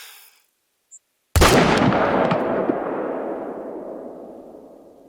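A single hunting rifle shot from the game The Hunter: Call of the Wild cracks loud and close after a brief hush, then rolls into a long, fading echo across open terrain.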